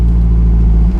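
Alfa Romeo 4C Spider exhaust in D mode, a loud, close, deep engine drone held steady for about a second.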